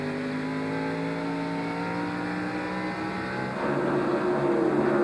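Onboard engine of Rusty Wallace's NASCAR stock car racing in the 1999 Exide NASCAR Select Batteries 400, a loud sustained roar with pitch climbing through gears, then a grittier surge near the end.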